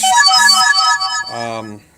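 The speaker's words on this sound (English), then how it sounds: "Pardon the phone beeping at me there." A phone rings out in repeated electronic beeping tones, a bright melodic chime pattern that ends with a lower buzzing tone before fading.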